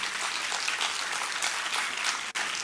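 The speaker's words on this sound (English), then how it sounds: "Ms. Ashwini, with a big round of applause." A crowd at a Greater Bengaluru Authority discussion applauds steadily, a dense wash of clapping that continues throughout with a brief dip near the end.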